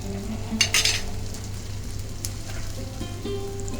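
Ginger garlic paste fries with fish roe in a pan, giving a constant close sizzle with a brief louder burst of stirring early on and a low steady hum beneath.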